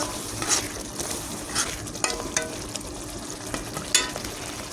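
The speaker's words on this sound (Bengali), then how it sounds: "এবারে ভালো করে মশলা কষিয়ে নেব" Spices with chilli powder sautéing and being stirred in a pan for quail curry, a steady sizzle broken by a few sharp scrapes and clinks of the spoon at close range.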